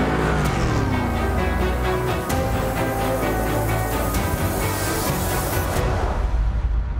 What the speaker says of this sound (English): Gregor Zimke as he fires that car.